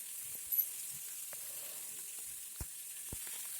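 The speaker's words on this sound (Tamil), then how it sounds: "அடுத்ததாக நம்ம பீட்ரூட்டை வந்து கொட்டி பீட்ரூட்டையும் நல்லா வதக்கிக்குவோம்." Beetroot and tomato sauté in a pan for a beetroot thuvaiyal, giving a steady, quiet sizzle with a few soft clicks of stirring.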